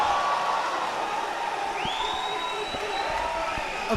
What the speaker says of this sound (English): You gotta hear that crowd. The crowd is loving this.